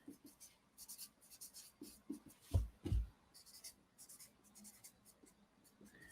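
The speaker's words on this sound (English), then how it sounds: "I'm going to draw a diagram" A pen or marker draws a diagram by hand on paper at close range, in quiet scratchy strokes with short pauses. A couple of louder taps or bumps are heard midway.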